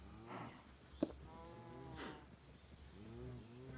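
Minecraft cow trophy mooing inside a modded game world: a few drawn-out low lowing calls with stacked harmonics, repeating at moderate loudness with a brief click between them and no talking.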